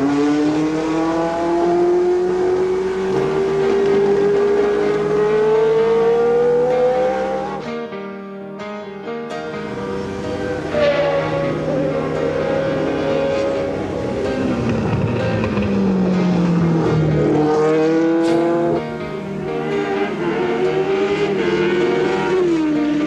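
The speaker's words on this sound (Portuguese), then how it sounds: "O carro sai do box," Ayrton Senna's Formula 1 car pulls slowly out of the pit box, its engine loud and close, with a sustained whine rising and falling in pitch and a brief drop partway through.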